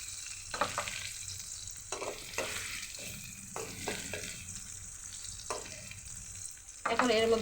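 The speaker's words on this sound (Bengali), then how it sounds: "একটা ফ্রাই প্যানে আমি একটা পেঁয়াজ কেটে কুচি করে" Chopped onion frying in a frying pan, a soft steady sizzle broken by repeated scraping stirs every second or so, quiet and close, ending in a louder hiss.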